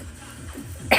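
A single short, sharp cough bursts out near the end after a stretch of low, quiet background noise.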